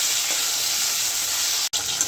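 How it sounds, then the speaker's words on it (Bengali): Okra with a little turmeric and salt sizzling lightly in a pan, a continuous even hiss of frying close by, broken by one brief dropout near the end. "ঢেঁড়সটা হালকা হলুদ দিয়ে লবণ দিয়ে একটু ভেজে নেব।"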